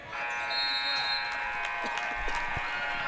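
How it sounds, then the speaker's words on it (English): A basketball halftime buzzer blares in a high school gym during a West Side vs Ririe boys game, a long steady electronic tone holding for the whole stretch over crowd noise and faint court sounds. "And the halftime buzzer sounds."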